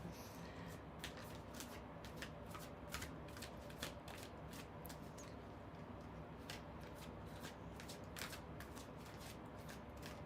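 Tarot cards shuffled and drawn during a reading, a steady run of soft, rapid papery riffles and flicks at close range, with no talk.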